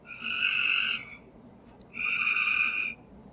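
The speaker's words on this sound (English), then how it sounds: "I'm sorry about my frogs." Frogs croak at night in two long, loud, buzzing calls about a second apart, with a quiet gap between them.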